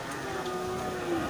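A Simmental cow at a cattle market gives a single sustained, droning moo lasting over a second, loud and close against a dense background of crowd and market noise.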